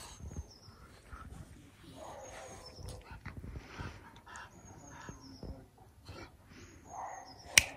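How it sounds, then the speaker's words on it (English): An English bulldog whimpers with thin, high whines that come and go over several seconds, close by, amid soft shuffling during an indoor treat-training session. "Silly dog."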